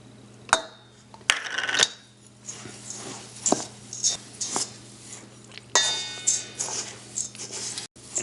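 Big spoon stirring muesli ingredients, dry oats and flax seeds, in a bowl: irregular scraping, clinking and rustling strokes at close range, fairly quiet, with a steady low hum beneath.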